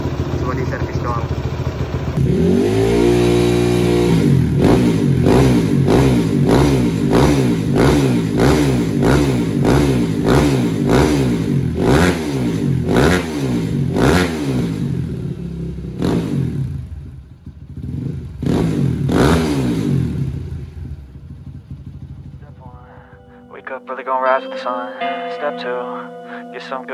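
A locally made Indonesian trail motorcycle engine, stock and daily-ridden, revs hard in a long series of rising and falling bursts, loud and close, before cutting off and giving way to music.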